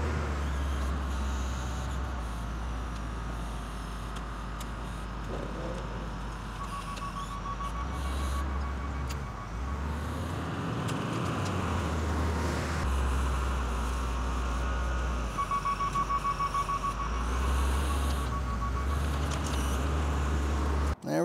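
A wheel loader's diesel engine runs at a junkyard, a steady low rumble with faint mechanical whine that holds throughout, fairly close.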